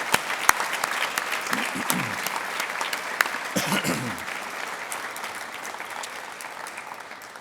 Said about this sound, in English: Let's have a huge round of applause, everyone, to show our appreciation for Allie Pearce